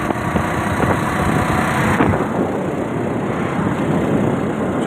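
A BMW car engine hums steadily with road noise, a loud, continuous drone heard from close by while driving.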